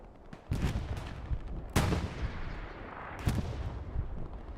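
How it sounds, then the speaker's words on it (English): Booming artillery impacts from a half-track artillery strike in the game Hell Let Loose land in a few sharp blasts over a constant rumbling battlefield backdrop. "Got another half-track artillery strike."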